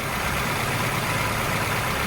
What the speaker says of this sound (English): So I've got the engine going now.